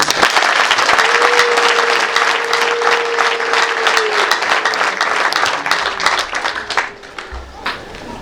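Sustained audience applause at a Rwanda Liberation Day (Kwibohora 29) event: dense crowd clapping that holds steady with a faint held tone beneath, then thins and fades toward the end.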